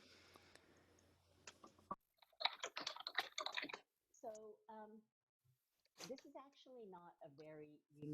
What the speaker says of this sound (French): quelqu'un tape sur son clavier